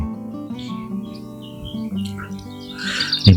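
Birds chirp and tweet near a lake, with scattered calls and squawks over a steady low hum, growing busier toward the end.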